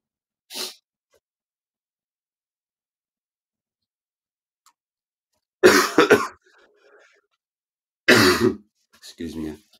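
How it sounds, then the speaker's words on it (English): Harsh coughs from a commentator during a live Wales vs Italy Six Nations rugby broadcast, one short burst, then a long silence, then two louder clusters of coughing and throat clearing close to the microphone. "Sorry about all this coughing, ladies and gentlemen."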